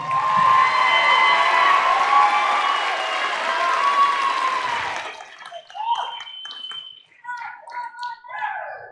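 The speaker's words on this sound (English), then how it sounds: "Give another round of applause." Sustained applause from a crowd at a high school graduation ceremony for several seconds, then fading into scattered claps and brief voices as it dies down.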